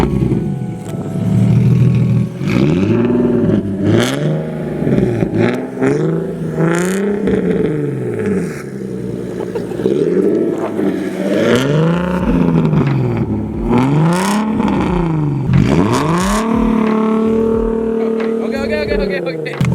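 Nissan 370Z fitted with a Tomei exhaust, revved repeatedly: deep, loud engine note climbing and falling in a steady series of sweeping blips, close by and alone throughout.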